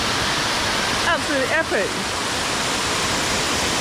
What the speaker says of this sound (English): This is Ted Hang Waterfalls.